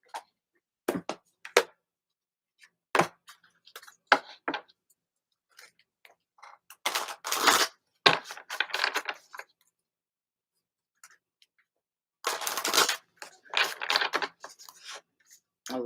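A deck of reading cards is shuffled in bursts of crisp riffling and soft slaps, close and clear, with quiet gaps between flurries.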